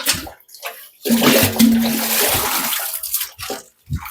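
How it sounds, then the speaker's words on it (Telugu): Water pours and splashes loudly for washing in an outdoor village setting, a gushing burst of a couple of seconds between quieter spells, with faint voices nearby. "మనం ఇలా నీళ్ళు వేసుకుంటాం చక్కగా"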